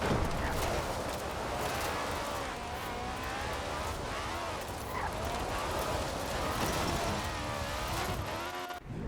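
Engine of the Rip Rod car driving in Forza Horizon 4, a loud sustained roar with rising and falling revs through corners, steady and close for the whole stretch, fading abruptly at the end.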